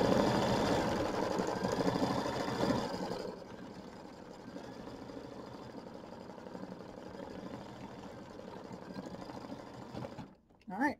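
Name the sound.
sewing machine stitching fabric for a gnome block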